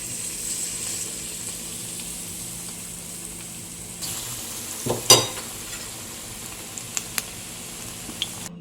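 Oil poured into a hot pan for bread roast gives a quiet, steady sizzle, broken midway by a sharp burst of crackling and a few later pops and clinks.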